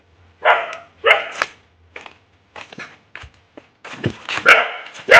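A dog in a village orchard barks in several sharp bursts, some doubled, fairly close, with short pauses between them and a few softer yips toward the end.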